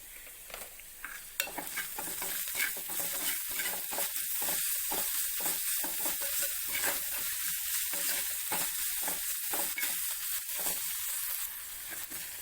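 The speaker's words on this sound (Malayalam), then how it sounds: "നമ്മുടെ സവാള നന്നായിട്ട് വഴന്നിട്ടുണ്ട്." Sliced onions sautéing with salt in a pan for a Kerala pulinkari, a steady close sizzle broken by a rapid series of stirring scrapes and pauses.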